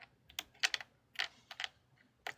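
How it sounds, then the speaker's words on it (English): Typing on a computer keyboard, close-up clicky keystrokes in irregular bursts of two or three quick taps separated by short pauses, with no talk. "If my keyboard will work"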